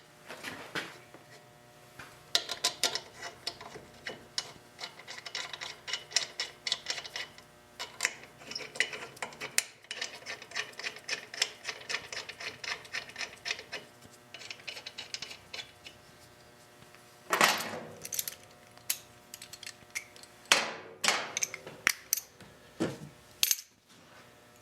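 Metal caliper bolts being handled and reinstalled on the rear brake of a 2008 Harley-Davidson motorcycle: irregular clinks and small metallic taps close by, with a few sharper clatters later on and no talking.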